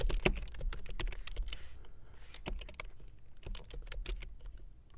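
Someone types an ifconfig command on a computer keyboard, with fast, uneven key clicks and a few heavier key strikes running steadily throughout, close and fairly quiet.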